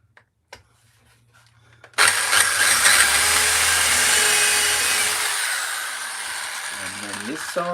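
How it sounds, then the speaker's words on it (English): A power drill bores into wood with a loud, steady whine that starts abruptly and runs for several seconds before winding down, close by, after a few faint taps. "I'll drill it first, then I'll screw it."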